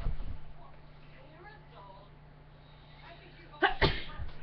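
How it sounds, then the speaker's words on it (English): A single sharp sneeze bursts out near the end, after a stretch of quiet murmuring voices in a room. "Don't sneeze on me."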